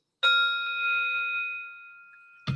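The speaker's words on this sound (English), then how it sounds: "I'm going to use my dinger, which I will show you, my Tibetan bell." A Tibetan bell is struck once, giving a clear ringing tone with steady overtones that hangs and slowly fades over about two seconds, alone and close.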